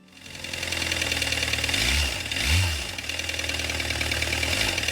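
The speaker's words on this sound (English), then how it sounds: "this 2013 Volkswagen Jetta TDI came in because it sounded louder than normal and the oil light was on" A 2013 Volkswagen Jetta TDI diesel engine runs steadily with a loud, rough knocking clatter, its low rumble swelling briefly in the middle, with no talking over it.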